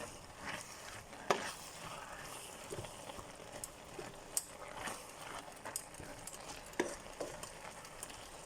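Leek soup being stirred in a pot after salt goes in, a soft, steady scraping and swishing with faint sizzling and a few sharper clinks of the spoon against the pot, close and fairly quiet.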